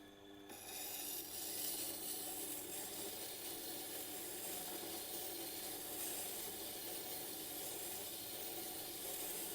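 A wood chisel grinds against the coarse 80 grit stone of a Tormek T8 sharpener, a continuous close rasping hiss that begins abruptly and holds steady throughout.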